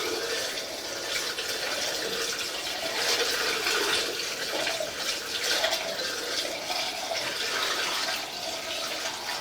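Water poured into a basement drain makes a steady, full rushing gurgle that continues unbroken for several seconds, close and fairly loud, with no talking.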